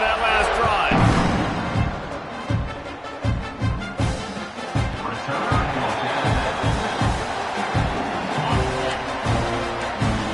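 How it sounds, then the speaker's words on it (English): A stadium crowd roars in the College Football 26 video game during an LSU versus Oklahoma matchup, a steady cheering bed beneath continuous play-by-play commentary, with rhythmic thumps running through the middle. "this crowd is feeling themselves after that last drive"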